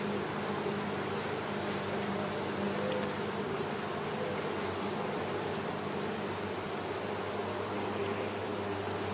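Honeybees buzzing around an open, active hive, a continuous dense drone close by with steady hum, no talking.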